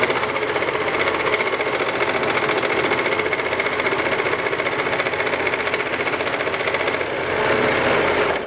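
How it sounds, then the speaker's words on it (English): A serger stitches and trims an armhole seam at once with its knife engaged, giving a steady, close mechanical whir with rapid rhythmic chatter that runs unbroken throughout. "Make the seam and cut the seam at the same time."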